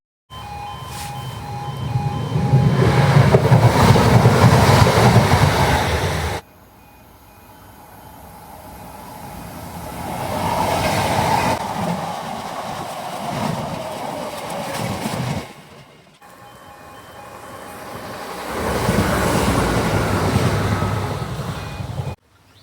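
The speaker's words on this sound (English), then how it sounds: "Right, got to wait for this train now." A train runs through Thurgarton station on the Nottingham–Lincoln line, its rumble and rail noise loud and close in three swelling bursts with quieter gaps between. No voices are heard.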